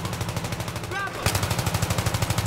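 Gunfire in Battlefield 3, a burst of rapid automatic shots in a steady loud rhythm after a brief muffled moment and a short electronic chirp.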